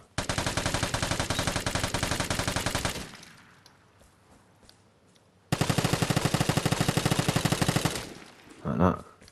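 A heavy gun in the video game Vigor fires two long sustained automatic bursts, loud and rhythmic, separated by a quiet pause.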